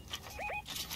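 A dog in a Fortnite match gives two short, rising whimpers in quick succession, close and clear over steady game background noise.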